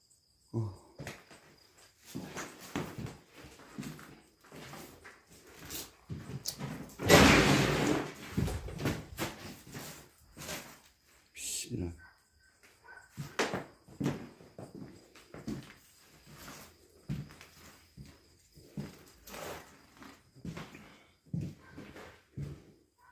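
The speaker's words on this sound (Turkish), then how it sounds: "Vallahi kapı oynuyor." An old door in an abandoned, deserted house rattles and shifts, giving irregular knocks, creaks and scrapes from close by, with one louder burst partway through and no talking.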